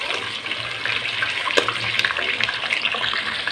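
Chicken fries in ghee in a pot for a qorma, giving a steady, dense sizzle with crackling pops, close and moderately loud, with faint speech at times.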